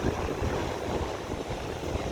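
Strong waves roll and wash onto a beach with a continuous broad roar, blended with wind buffeting the microphone and no voices.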